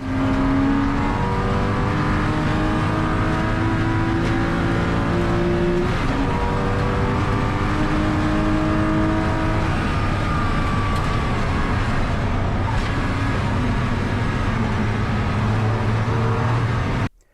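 Loud, continuous roar of Porsche Boxster Cup race cars at full throttle at Brands Hatch, with rising and falling revs and occasional gear shifts, then an abrupt cut.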